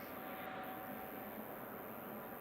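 Etihad Boeing 777-300ER airliner engines at an airport, heard as a steady broadband roar that holds constant throughout, distant and fairly quiet.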